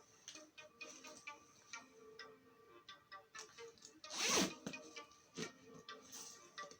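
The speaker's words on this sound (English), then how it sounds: "now we're going to figure out if in fact we can zip this up." A motorcycle vest being fitted and zipped over a hoodie and jacket, with soft ticking rustles followed by one louder, rasping zip pull near the middle, quiet and close.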